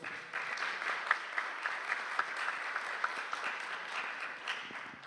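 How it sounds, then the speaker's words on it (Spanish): An audience applauds at a panel discussion event, a continuous moderately distant patter of many hands with a few sharper individual claps standing out, no talking. "Un aplauso para ellos, por favor."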